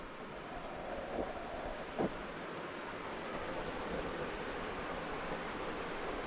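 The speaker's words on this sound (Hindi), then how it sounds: "या इसी को कहते हैं महात्मा गांधी वाटरफॉल" Jog Falls, also called the Mahatma Gandhi waterfall, in India, pours as a steady distant roar of rushing water, a broad even wash of noise with no talking.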